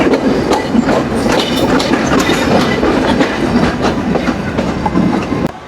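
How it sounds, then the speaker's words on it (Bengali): Red-and-green Rupsha Express passenger train running near Alamdanga railway station, its wheels giving a loud, close clickety-clack rhythm over the rails with a continuous rumble throughout. "এই হচ্ছে লাল সবুজের রূপসা এক্সপ্রেস ট্রেন"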